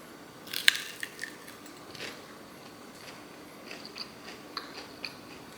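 Crisp bites and crunchy chewing of a breaded Whole Foods meatless chicken nugget, a sharp first crunch followed by softer, scattered chewing crackles close to the mic, no talking.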